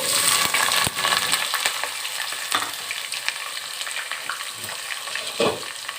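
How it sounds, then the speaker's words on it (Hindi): Onions dropped into hot cooking oil for a cabbage sabzi, frying with a loud, dense, continuous sizzle and crackle, plus a few sharp spoon or pan knocks, close up with no talking. "अब हम इसमें प्याज को डाल लेते हैं"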